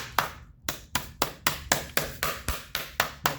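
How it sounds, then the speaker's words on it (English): Chicken breast sealed in a vegetable bag is pounded flat, about a dozen heavy, evenly spaced thuds landing close up in a steady rhythm. "I'm going to pound it out aggressively to about a ½ inch thick."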